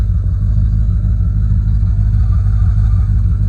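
Parked at idle, a project car's engine holds a smooth, loud, low throb with a regular pulse, steady and alone with no voices.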